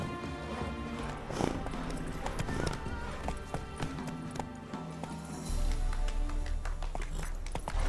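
Horse hooves clip-clopping at a gallop in The Witcher 3 video game, rhythmic thuds over a busy background of game sounds, with a brief whinny and someone speaking partway through.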